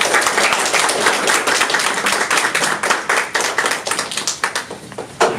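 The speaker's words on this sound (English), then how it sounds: "Round of applause." Loud, close audience clapping at a library poetry slam, sharp individual hand claps thick and steady throughout, thinning slightly toward the end with a last burst.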